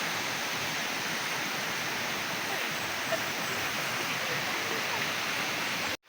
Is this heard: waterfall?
yes